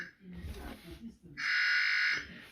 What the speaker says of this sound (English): I split the bell, disconnected it, and I plugged in the buzzer